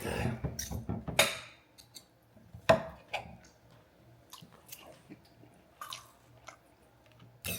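Someone slowly chews a bite of steak cap cooked between rare and medium: soft, close, wet mastication with a few sharper bites spread over several seconds in a quiet room.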